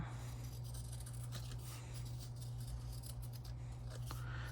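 Scissors cutting fabric, a faint close snipping and rustle over a steady low hum, with no talking.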